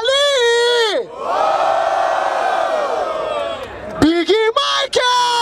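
At the Batalha da Aldeia rap battle in Barueri, SP, a crowd lets out a sustained roar of cheering and shouting. A host shouts over the room before and after the swell.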